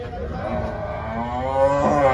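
A buffalo at a Dhule livestock market gives a long, loud, continuous moo that swells toward the end, heard close over faint market background noise.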